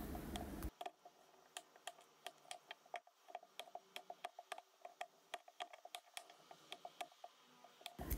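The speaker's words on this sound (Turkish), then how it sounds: "çikolatamı şöyle minik minik doğruyorum" A knife taps quickly and repeatedly on a cutting board while chocolate is chopped into small pieces, producing sharp, quiet clicks in an uneven rhythm against near silence.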